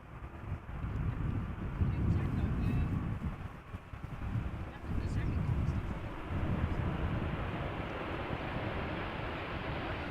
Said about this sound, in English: A320 from Vueling arriving from Alicante.